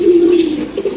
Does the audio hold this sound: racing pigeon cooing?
yes